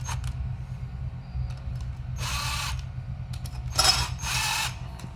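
A power tool runs bolts down on a Mitsubishi 4G63 cylinder head, whirring in two distinct bursts over a low steady mechanical hum, close and fairly loud, with no speech.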